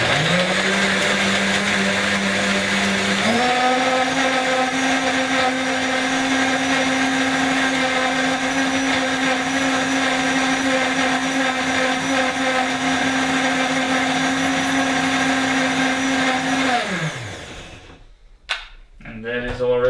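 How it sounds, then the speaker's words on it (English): Blender knives grind through nuts for liquid tiramisu in a loud, whirring motor drone that jumps to a higher, sharper pitch a few seconds in, holds steady, then winds down and stops. "You can hear during the blending process when the knives get into the nuts, okay, it's making a quite high-pitched sound"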